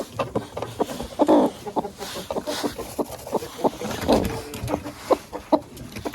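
A broody hen clucks and grumbles in short, repeated bursts while being carried to a nest of eggs, close and fairly loud, with rustling and handling noises between the clucks.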